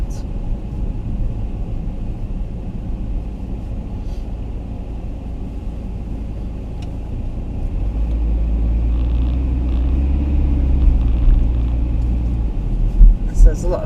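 Car driving through foggy Blackpool past hotels on Albert Road, a steady low interior engine and road rumble that swells louder partway through, with someone talking over it.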